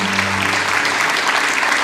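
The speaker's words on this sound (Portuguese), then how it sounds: "você pode ainda aplaudir ao Senhor bem forte" A church congregation at a Branham Tabernacle service applauds loudly and steadily, a dense wash of clapping filling the space, with a faint voice or musical tone fading out in the first moments.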